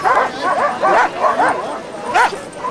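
Sled dogs at the start of the Yukon Quest race yip and bark excitedly in a rapid, uneven chorus, loud and close amid crowd noise.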